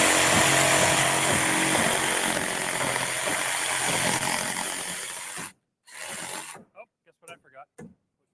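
A power saw cuts loose a stud in a load-bearing wall, a loud, steady whining buzz for about five seconds that stops abruptly, followed by a short burst and speech.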